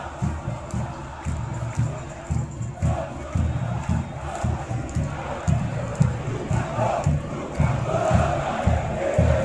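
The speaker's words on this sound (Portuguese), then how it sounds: "Sobe o som dessa torcida." Vasco football supporters in a packed stadium during a Brasileirão match against Bahia, a loud continuous crowd roar with rhythmic chanting pulses and bursts of cheering throughout.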